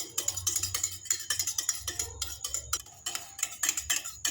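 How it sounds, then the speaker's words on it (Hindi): Cracked eggs are briskly beaten in a glass, a quick steady rhythm of utensil clicks and taps against the glass, close and with no talking. "हमने गिलास में अंडों को फोड़कर डाल दिया है। अब हम इसे अच्छे से मिक्स कर लेंगे।"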